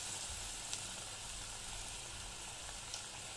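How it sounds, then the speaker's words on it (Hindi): Small potato pakoras fry in hot oil with a continuous, even sizzling hiss close by and a couple of tiny crackles, with no talking. "इसी में हम ये छोटे छोटे पकौड़े छोड़ते जाएंगे।"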